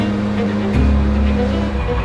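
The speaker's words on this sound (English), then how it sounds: "the two 800-horsepower hill climb cars between Higgins and Pastrana" 800-horsepower Subaru WRX STI hill climb race cars roaring up a mountain road, a loud close engine drone that surges midway with tire squeal, with no voices.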